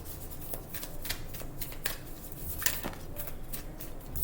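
Tarot cards are shuffled by hand in quick riffling bursts, close and crisp, repeating steadily for several seconds with no talk.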